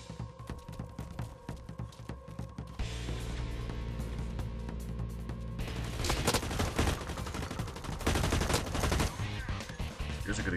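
Sustained full-auto gunfire in the shooter game Blacklight Retribution, with dense rapid bursts over a steady backdrop of game music that swell louder and busier in the second half.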